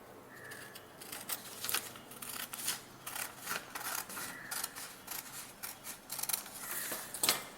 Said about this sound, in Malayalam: അതിനുശേഷം അത് 2 പ്രാവശ്യം മുറിച്ചെടുക്കുക.